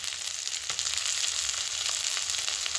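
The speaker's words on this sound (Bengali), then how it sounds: "এদিকে দেখুন পেঁয়াজ আর রসুনটি ভাজা হয়ে গেছে।" Onion and garlic sizzle steadily in a pan while cooking a mixed-vegetable labra, a close, even crackling hiss with a few faint clicks and no speech.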